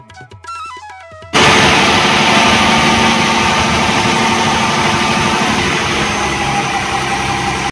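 Motor boat engine on the Ganges at the Benares ghats, loud steady droning hum that kicks in abruptly after a short stretch of music and holds close and constant to the end.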